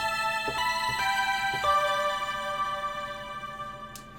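Heavily modified lead synth patch in Reason 9, played as trance chord hits with an octave added below: a few bright sustained stabs struck in quick succession, ringing and slowly fading, with a faint click near the end.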